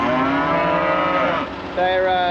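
Cattle mooing on a farm, with a long drawn-out moo, a brief dip, and then another low moo starting right after, close and loud.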